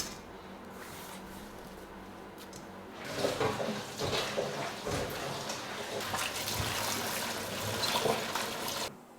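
Sliced leeks, split down the centre, are rinsed under running water, a steady splashing trickle that grows fuller and louder partway through, with water sloshing close by.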